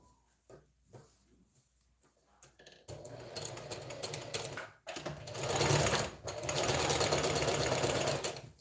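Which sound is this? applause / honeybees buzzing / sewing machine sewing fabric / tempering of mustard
sewing machine sewing fabric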